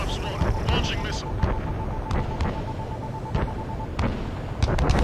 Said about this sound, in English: Cyclops 1, launching missile.